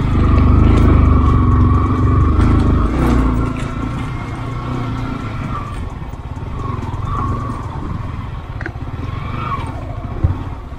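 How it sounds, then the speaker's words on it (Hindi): Motorcycle engine labouring loudly with a passenger aboard as it climbs a slope of rounded rocks, revs rising and falling with clattering stones, steady throughout with no talk. "बाइक में तो काफ़ी दम है। अरविंद भाई को बैठा के चढ़ा रहे हैं इस बार"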